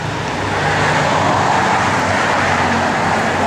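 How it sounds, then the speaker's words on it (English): A loud, continuous engine roar with a broad rushing hiss, steady throughout like tires spinning hard against pavement, from a 1969 Dodge Coronet convertible of about 550 horsepower doing a burnout and smoking its tires. "Car just absolutely smokes the tires."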